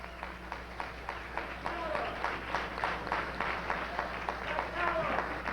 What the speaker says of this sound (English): Let's give him a warm round of applause, Brother Kwame Ture.